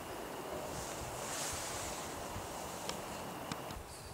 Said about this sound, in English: well, it's pretty windy out.